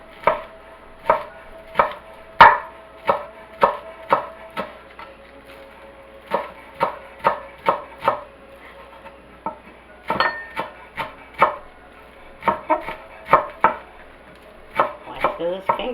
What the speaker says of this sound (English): I have some green onions. We're going to chop these up.